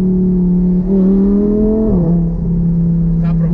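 Audi R8 engine humming steadily during a ride, the pitch rising briefly and then dropping back, loud and close from inside the car.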